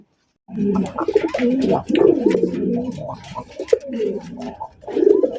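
A pair of desi Bombay pigeons coo at a pigeon farm: low, rolling, repeated coos close by, steady through the whole stretch with brief pauses.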